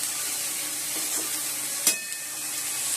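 Cauliflower and potato fry in a pan with a steady, even sizzle and hiss, broken once by a brief clink of stirring.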